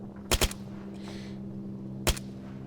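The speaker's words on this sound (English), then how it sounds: "there's quite a few people shooting at them" Rifle gunfire in ARMA 3, two quick sharp shots followed by a third a moment later, crisp and fairly close over a low steady background hum.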